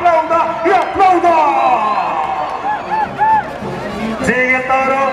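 A rodeo bullfighting crowd at the San Marcos fair cheering and whooping, a loud dense mass of shouts and whistles with an announcer's voice running over it throughout.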